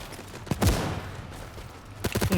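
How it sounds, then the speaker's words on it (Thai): Explosive gunfire and an RPG blast in Battlefield 2042, a first-person shooter: a heavy boom with a long rumbling decay, then a quick cluster of sharp shots near the end. "ผมไปยิงอาร์พีใส่"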